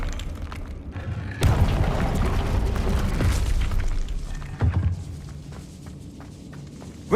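A Confringo fire spell bursts in Hogwarts Legacy, a loud booming blast at about 1.4 seconds that rumbles on for a few seconds, followed by a smaller thump near 4.7 seconds and quieter crackling tail.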